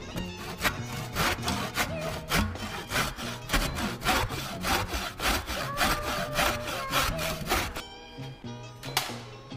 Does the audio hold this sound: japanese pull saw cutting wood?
yes